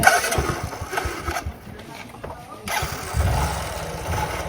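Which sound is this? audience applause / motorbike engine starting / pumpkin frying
motorbike engine starting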